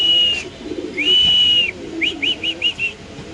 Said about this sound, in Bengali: অরিজিনালি পাকিস্তানি ব্রিড ডেনিশ কবুতর